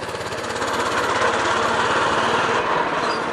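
A minibike's small engine drones loud and steady throughout a ride, a rough buzzing putter with no pauses and no voices.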